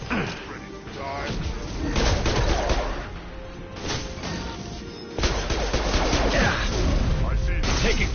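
Sustained gunfire in Mass Effect 2, with rapid bursts, heavy thumps and slamming impacts in a loud firefight while voices speak over the shooting.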